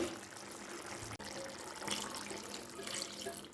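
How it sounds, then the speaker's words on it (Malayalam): First coconut milk is poured into a chicken curry, a faint, steady liquid pour and trickle running continuously, with a brief break partway through. "ഇനി നമുക്ക് ഫസ്റ്റ് പാലൊഴിക്കാം"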